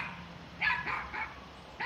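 A dog barks in a yard by a fence, giving three or four quick, fairly loud barks in a short burst, pausing briefly, then barking once more at the end, with no talking.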